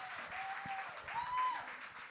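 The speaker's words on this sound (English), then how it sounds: "Another round of applause for this group of candidates." An audience at a Seattle candidate forum applauds a group of candidates, a steady wash of clapping lasting the whole stretch at moderate distance.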